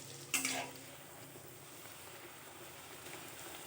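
Luchi frying in hot oil in an iron wok, a steady close sizzle with a brief louder crackling burst near the start, then an even hiss.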